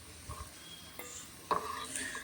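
Cashew nuts being roasted in a pan for semiya payasam, with a faint sizzle and a few soft stirring scrapes and clinks against the pan, heard close and alone.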